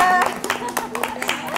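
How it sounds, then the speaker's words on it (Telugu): Audience applause at a hotel management institute in Hyderabad: a run of scattered handclaps under overlapping talk, fairly close and moderately loud for about a second and a half. "చప్పట్లో."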